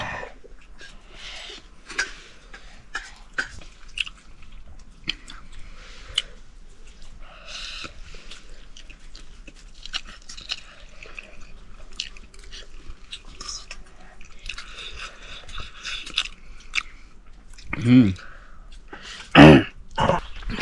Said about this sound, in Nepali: अहिले चाउमिन खाइयो अलिक पिरो पिरो रहेछ